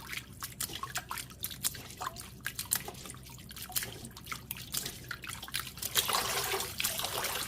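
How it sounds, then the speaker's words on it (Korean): Cooked noodles rinsed in cold water and drained in a sieve, with close, irregular trickling, splashing and dripping that swells into a steadier pour of water near the end. "물 빼고 마지막으로 한 번만 더 헹궈주고 체에 받쳐 물기 뺍니다."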